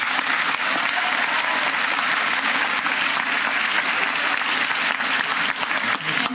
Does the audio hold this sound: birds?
no